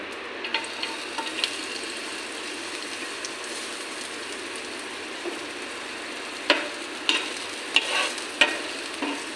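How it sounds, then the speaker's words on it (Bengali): Onions frying in a pan give a steady hiss with light taps, and a few sharper utensil knocks come near the end, with no one speaking. "এখন আমি পেঁয়াজটি ভাজা করে নেব"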